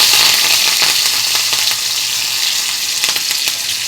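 Mustard seeds, dried red chillies, garlic and curry leaves sizzle loudly in hot oil in a pan for a tempering, a dense continuous crackle with scattered pops, close up and alone.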